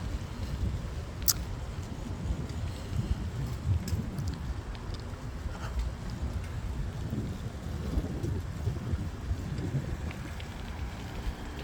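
Steady wind buffeting the microphone with low rumbling gusts and a few faint clicks, continuous throughout with no talking.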